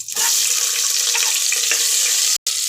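Onion and whole spices (bay leaf, fennel, cinnamon, cloves and pepper) fry in hot oil for tomato bath, making a loud, close, continuous hissing sizzle with a brief break near the end. No one speaks.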